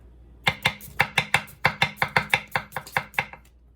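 An Enso SG2 Kiritsuke knife chops through potato on a cutting board, about fifteen crisp, evenly spaced knocks in a quick steady rhythm, close and clear with no talking.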